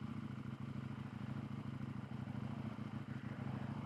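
A 2022 KTM 890 Duke, a light motorcycle of about 409 pounds, pulls away with a steady, close engine rumble and a faint clatter running throughout.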